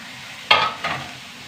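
Crushed ginger and garlic drop into hot oil and are stirred in a pan: a sharp sizzle burst, then a second stirring scrape and sizzle that settle into a soft fry.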